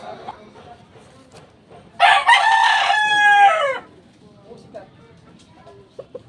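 A rooster lets out a single loud, nearby crow lasting a couple of seconds, with quieter clucks and low ambient noise around it.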